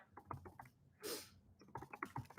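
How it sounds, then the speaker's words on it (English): Quiet, rapid clatter of keys on a computer keyboard, typed in bursts with a brief pause and a soft breathy noise in the middle. "I'm typing it right now."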